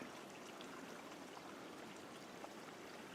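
Small stream in Fiordland National Park, New Zealand, flowing with a steady, faint trickling wash, constant and even throughout, with no voices.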